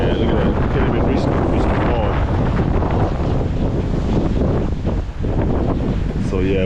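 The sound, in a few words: strong wind blowing into the microphone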